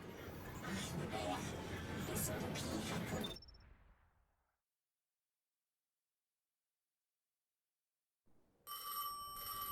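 Telephone ringing in the video game Destiny 2: a loud, dense ringing burst fades into silence, then a brighter ringing tone starts again near the end.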